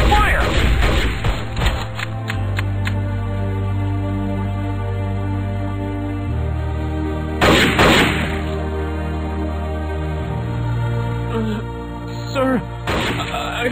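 Gunfire in the Strike Force Heroes game during a friendly-fire mission, with scattered shots and thuds over a droning music bed, heavier bursts near the middle and end.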